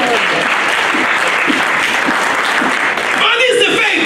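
A church congregation breaks into loud, sustained applause that fills the room, with a voice heard over the clapping toward the end.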